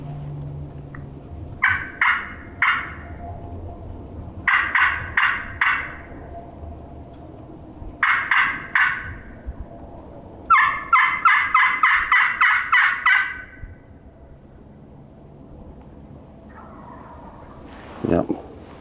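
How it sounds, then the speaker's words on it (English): Wild turkeys gobble in a spring hunting setting, several rapid rattling gobble bursts repeating at intervals and sometimes overlapping, loud and fairly close, with a quiet pause and a person's voice near the end. "a couple of them gobbling"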